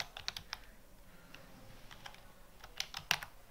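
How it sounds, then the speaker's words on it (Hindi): Quiet keystrokes on a computer keyboard while entering text into Wings embroidery CAD software, scattered taps and short bursts with brief pauses over a low room hum. "यहाँ मैंने टाइप कर दिया है"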